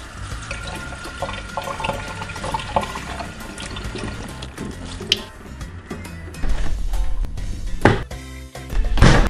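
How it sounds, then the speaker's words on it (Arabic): Tap water runs and splashes into a container close by, a continuous gushing fill that shifts in tone as the level rises, with bursts of louder splashing near the end; no talk. "غادي نتزقوه بالماء مزيان"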